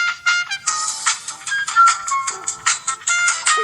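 A phone ringtone plays a bright, chiptune-like melody reminiscent of Pokemon music, loud and close, with quick repeated synthesized notes and no talk over it.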